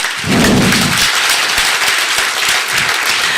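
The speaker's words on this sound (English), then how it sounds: "And have a full clap." An audience at a software testing world conference clapping together on cue: a loud full-room burst of hands, dense and sustained, with a few heavier thumps mixed in.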